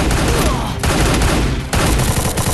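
Rapid automatic fire from a Trogon gun in Free Fire rattles out in dense, loud bursts with two short gaps between volleys.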